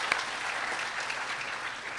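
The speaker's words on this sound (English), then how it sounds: "Let's clap a little bit." Audience at a university honors cording ceremony applauds in a short, steady burst of many hands clapping, evenly dense throughout.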